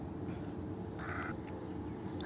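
A crow caws once, a single harsh call by a Dubai canal, heard against a steady background roar of open outdoor noise, with no talk.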